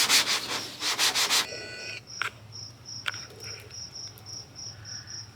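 Hand sanding of body filler on the body panels of a 1971 Chevy Blazer, a fast rhythmic rasping scrub in the first moments, then a quieter pause with faint scraping and a steady high whine in the background.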